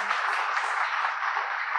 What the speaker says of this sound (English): Can we have a round of applause for all our panel members?